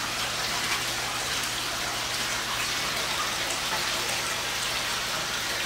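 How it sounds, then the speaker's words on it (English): A turtle pond pump circulates water into a small whirlpool, giving a steady, close hiss and patter of splashing water that holds unchanged throughout with no pauses. "I've got my pump shooting the water this way, so there is a small whirlpool just going right around"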